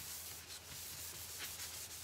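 A damp towel rubs back and forth across a sanded wooden board being painted in buffalo plaid, a faint close scrubbing swish with soft rhythmic strokes.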